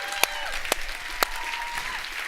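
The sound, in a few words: applause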